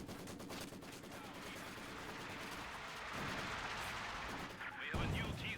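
An artillery barrage in Company of Heroes 2, a low, rumbling wash of distant shelling and gunfire that swells toward the end, with a commentator talking over it.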